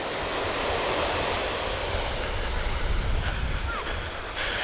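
Surf rolls in steadily at a deserted New Zealand beach, a dense, continuous wash of breaking waves close by with some wind noise and no voices.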